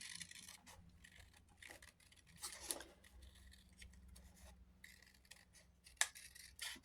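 Scissors snip through sturdy paper for a paper craft, a series of close, quiet crisp cuts and rustles at an uneven pace, with sharper snips standing out, and no talking.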